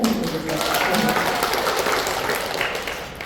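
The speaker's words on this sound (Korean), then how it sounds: "그러면 박수 한번 보내셔야 되거든요." Seated audience at a company presentation breaks into applause, producing a dense, continuous wash of clapping at steady volume for a few seconds, with a voice briefly audible underneath.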